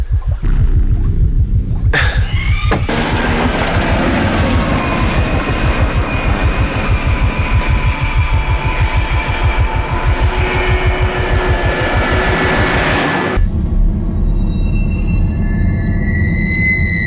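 A train rolls loudly through a station, its wheels beating out a steady, rapid clatter with a rumbling body for about eleven seconds. The noise then cuts away to quieter ambience with faint tones.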